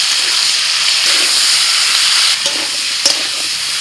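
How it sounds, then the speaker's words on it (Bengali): Cucumber pieces sizzle loudly as they hit a hot spice tempering of black cumin and dried chili, following lightly fried prawns, a steady close frying hiss with a couple of brief stir clatters near the end. "কালো জিরে, শুকনো লঙ্কা একটা, ফোড়নটা হতে শসা দিয়ে দিলাম"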